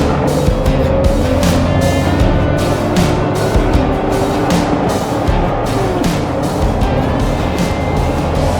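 A restored 1977 Toyota FJ40 Land Cruiser with fuel injection and 4WD drives steadily on a test drive, its engine droning loud and close with continuous road and wind noise and no talking.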